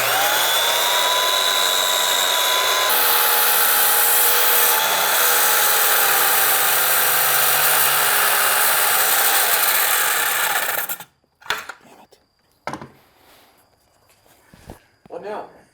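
A tile saw with a thick, out-of-balance blade whines loudly through new tile for about eleven seconds, its pitch wavering, then stops, leaving scattered clunks and handling noises.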